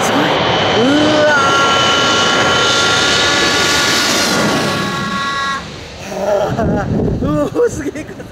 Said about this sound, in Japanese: この千里川土手で飛行機がね、もろに見えるんですよ